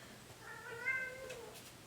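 An angry cat yowls out in a hallway, one drawn-out, wavering meow rising over a quiet room, slightly distant and fairly faint.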